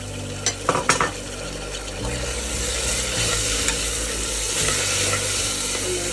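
Chopped tomato pieces, two tomatoes' worth, go into a pan with garlic-ginger paste for chana dal and are stirred, giving a few quick clatters of a spoon against the pan, then a steady sizzle and continuous stirring scrape.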